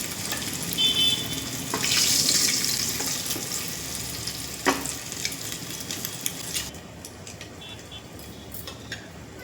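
Eggs fry in hot oil in a pan for a chicken, prawn and egg biryani, a close, crackling sizzle that swells early and then thins, broken by a few sharp utensil clicks near the end.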